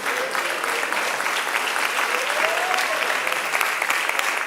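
Church youth congregation clapping their hands joyfully in praise, an even wash of many hands with a faint voice briefly rising over it.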